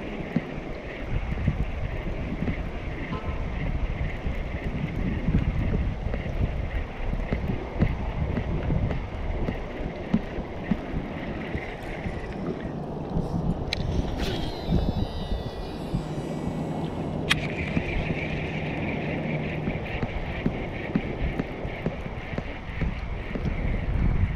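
Steady wind rushes and buffets the microphone out on the water during a fishing trip, loud and continuous, with a short clicking, whirring interruption midway.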